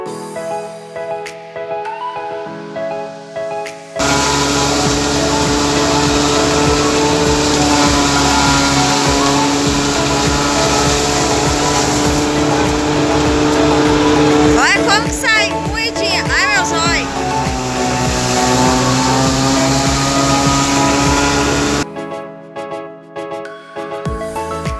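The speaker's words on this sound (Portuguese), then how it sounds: "o trator tá quase parado" Tractor engine running slowly while nearly stopped on a farm during sugarcane cutting, a steady mid-pitched drone that holds through most of the stretch, with a person speaking at the start and end.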